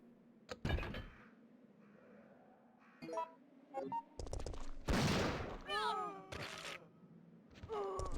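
Rapid, crackling video game gunshots in several separate bursts, some loud and close, mixed with in-game effects and short voiced sounds.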